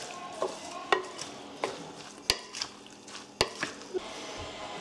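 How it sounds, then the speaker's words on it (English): A spoon stirs chopped mango salsa in a bowl, giving soft wet squelches and scattered light taps against the bowl, close and fairly quiet with irregular strokes. "So I'll give that a good mix."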